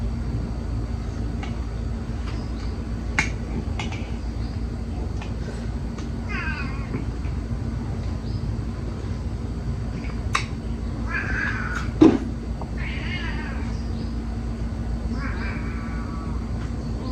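A pet cat gives several short, wavering meows at moderate distance over a steady hum, with occasional clicks and a sharp knock partway through.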